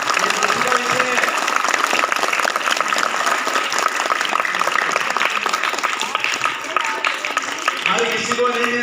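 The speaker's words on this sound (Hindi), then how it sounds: "जोरदार ताली बजाओ बेटा।" Sustained clapping from an audience at a school welcome ceremony with garlanding of a guest, continuous and fairly loud throughout, with voices and crowd murmur mixed in.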